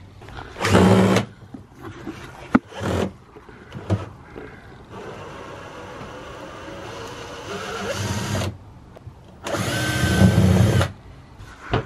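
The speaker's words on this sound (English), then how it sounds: "I am now the one undoing the screws" A power drill backs screws out of an RV window frame in several whirring bursts, loud and close, with quieter rattling and handling between runs.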